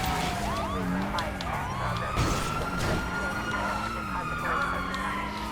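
A police siren wails in the GTA 5 VR video game, its rising and falling tones looping continuously and loudly over engine and street noise while voices speak.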